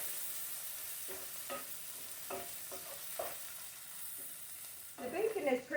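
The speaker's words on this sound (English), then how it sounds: "Stir my bacon and my onions around." Bacon and onions sizzle gently in a pan under a steady, soft frying hiss, with several scraping stirs and a louder, busier stirring burst near the end.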